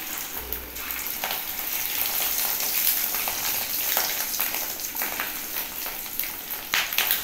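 Shaped egg fritters for egg curry fry steadily in hot oil, a continuous close crackling sizzle with occasional sharper pops and spatters, no talking.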